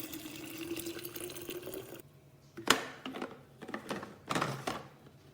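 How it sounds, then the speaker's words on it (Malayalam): Black tea poured into a flask: a steady, quiet liquid stream runs for a couple of seconds, then breaks into a few short splashes and knocks. "ബ്ലാക്ക് ടീ റെഡി ആയിട്ടുണ്ട് ഫ്ലാസ്കിലോട്ട് എടുക്കുകയാണ്"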